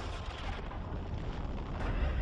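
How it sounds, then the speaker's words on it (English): A catastrophic nuclear explosion effect from The Flash, a sustained, heavy low rumble with a steady roar that holds evenly throughout, no voices. "Catastrophic nuclear explosion."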